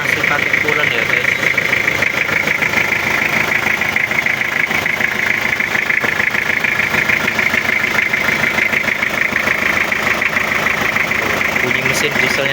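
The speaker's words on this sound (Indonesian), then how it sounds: "Bunyi mesin dieselnya Kijang tuh enak guys," The diesel engine of a 2002 Toyota Kijang LSX idles steadily with a continuous rattling hum, close by and unchanging throughout.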